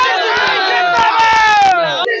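A village crowd at a Bihar election rally shouting and chanting together, loud and close, with voices overlapping in a continuous dense roar.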